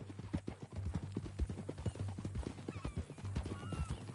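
Steady horse hoof clops on hard ground in the video game Red Dead Redemption 2, a repeated clip-clop rhythm over a low hum and faint background ambience, with no talking.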